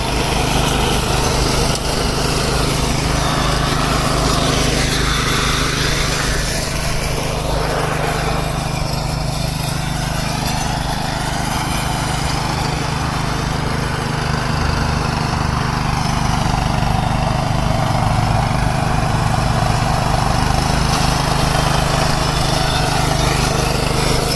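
A Hyper X G40 lawn mower with three Y-shaped blades drones loudly and steadily nearby, its high-pitched engine whine rising and falling slightly as it cuts grass, running without pause throughout.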